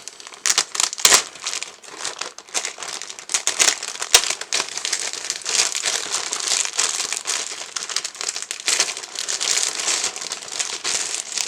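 Plastic bags crinkle and rustle while parts of a 1/48 scale A-10C model kit are unpacked. The handling is close and fairly loud, in irregular bursts of crackling that run through the whole stretch.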